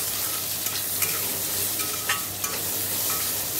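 Mustard seeds sizzling in hot oil for tempering: a constant close crackle and hiss, with a few sharp clicks and pops from seeds bursting or a utensil touching the pan, over a low steady hum.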